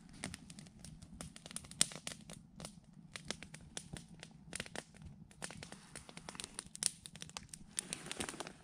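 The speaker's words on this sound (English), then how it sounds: "So this is what a roaring fire looks like on the spectrum analyzer." A roaring campfire at a high-altitude Colorado mountain camp, around 10,000 feet, gives off faint, irregular crackles and sharp pops over a low steady rush, with no one talking.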